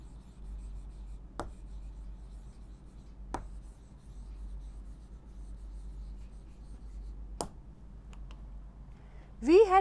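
A teacher writes an answer on a board, producing faint scratching under a quiet room hum, broken by a few sharp taps as the writing tool strikes the surface. A voice starts at the very end.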